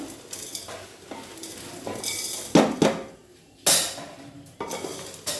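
Vermicelli for payasam being stirred in a pan with ghee, a spoon scraping and clinking against the metal over soft sizzling, in several distinct bursts with brief pauses between them, close and fairly loud.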